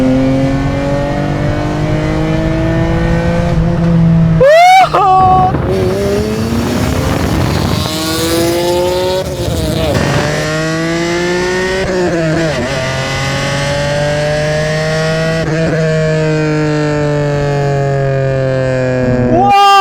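A naturally aspirated two-door sports car from the 2000s accelerating hard in first gear, its engine revving up repeatedly in loud rising sweeps with brief gear-change dips, heard close from inside the cabin.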